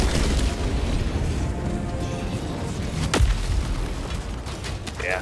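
Ordnance explosions in Helldivers 2, with heavy rumbling booms and one sharp blast standing out midway over a constant roar of battle.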